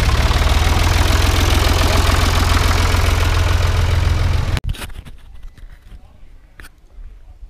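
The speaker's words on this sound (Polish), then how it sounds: "Przedstawiam Wam szwajcarski ciągnik Hürlimann. Kultowy tutaj pojazd" A Swiss Hürlimann tractor at a tractor meet in Switzerland idles loud and close, a dense steady chugging rumble that cuts off abruptly partway through, leaving quieter scattered background noise.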